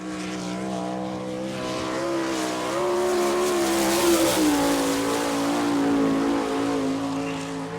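A Ford-powered sprint car laps a speedway at speed, its high-pitched engine wailing loudly and near, rising and dipping in pitch as it passes through the turns, with no voices over it.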